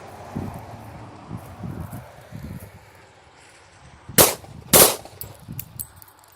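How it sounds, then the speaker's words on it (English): A P80 pistol on a full-auto range test fires two sharp, loud shots about half a second apart, a double fire caused by a malfunction, after quieter rustling and handling noises outdoors. "And there was a double fire in there. Something's not right with this gun."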